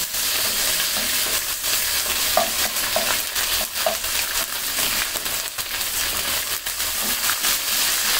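Ginger and garlic paste sizzles steadily in hot oil for a spicy broiler chicken curry, with a constant loud frying hiss and occasional stirring scrapes.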